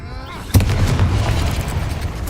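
A Confringo blasting spell goes off in Hogwarts Legacy as one loud boom, followed by a rumbling, crackling roar that fades slowly, with a voice calling out just before the blast.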